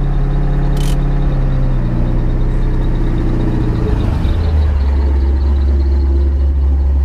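A Corvette C5 Z06 with Flowmaster exhaust idles with a deep, low exhaust rumble, steady and close, its pitch shifting lower partway through.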